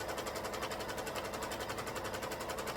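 A sewing machine runs steadily while stitching the seam of a DIY purse, a close, even whir with a fast regular chatter of the needle and no pauses.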